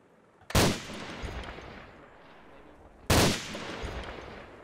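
A GPMG machine gun fires two short bursts about three seconds apart during a rate-of-fire demonstration on a range, each burst loud and close with a sharp onset and a lingering rumbling echo.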